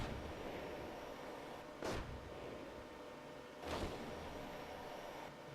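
Tank cannons fire in the strategy game Iron Grip: Marauders as two short, muffled blasts about two seconds apart, each rising briefly over a faint, steady background hiss.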